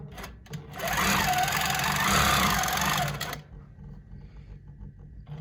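A Pro-Stitcher longarm quilting machine stitching an edge-to-edge pantograph gives a fast, even mechanical whir for about two seconds, starts abruptly and stops just as suddenly, then leaves a quiet hum.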